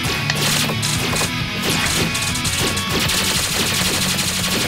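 Loud, continuous gunfire and impact effects from the video game Gensokyo no nazo, with rapid repeated cracks and thuds layered over steady game music.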